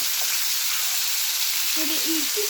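Fish fry in oil reused from earlier french fries, giving a steady close sizzle and crackle with a few brief scraping stirs near the end.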